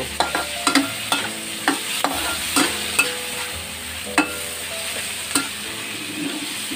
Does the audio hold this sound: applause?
no